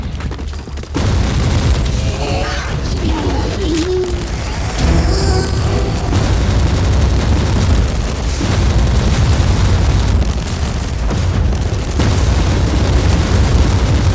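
Explosions burst Nurgle pustules in Warhammer 40k Inquisitor Martyr, a series of loud booms over a constant heavy rumble, with a few tonal effects mixed in.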